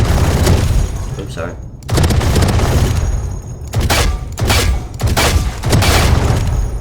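Odin machine gun from Valorant firing in sustained bursts with heavy, dense rattling, pausing briefly between strings of shots, loud and close, with a voice speaking briefly over the gunfire.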